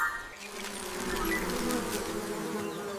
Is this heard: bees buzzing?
yes